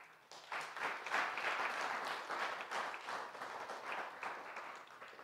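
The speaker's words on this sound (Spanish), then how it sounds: "Vamos a darle un fuerte aplauso al Señor" A church congregation applauds together, a steady, fairly soft wash of many hands clapping at once for several seconds, slightly fading toward the end.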